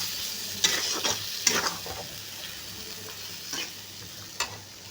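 Soybean chunks with potato, onion and capsicum stirred in a hot pan, a soft continuous sizzle broken by several scraping strokes of a spatula, close and moderately quiet, no talking.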